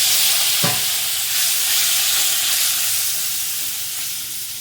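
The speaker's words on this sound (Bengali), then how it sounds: "দেখো একটু অল্প করে জল দিয়ে কষাবো মশলাটা" Masala spice paste frying and being stirred with a splash of water for a prawn and potato dum, a steady close sizzle with one sharp scrape of the spoon early on, then continuous hiss throughout.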